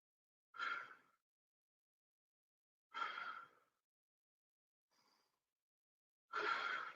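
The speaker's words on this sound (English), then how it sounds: "Deep breath in and out. In and out." Deep breathing during a floor workout: four slow, separate breaths, each a soft airy exhale with quiet pauses between them, close and faint with no talk.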